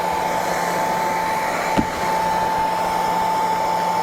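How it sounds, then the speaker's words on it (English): A heat gun blows over a waxed canvas saddle bag with a steady, close whine and a constant airflow hiss, broken only by a brief click partway through. "I'll go over it with a heat gun again and a clean rag, just to mop up the excess"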